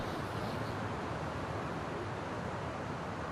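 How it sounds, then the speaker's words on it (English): Wind blowing outside in the video game The Long Dark, a steady, faint broadband rush with no gusts standing out and no voices. "Okay, it's just windy."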